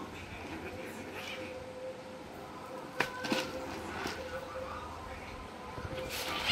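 Cats play fighting, with meows and yowls breaking out over a steady background, including a sharp burst around the middle; a person talks nearby.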